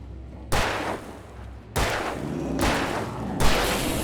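Rapid gunfire from the video game Alan Wake Remastered: four loud, close shots spaced about a second apart, each with a booming tail that rings into the next.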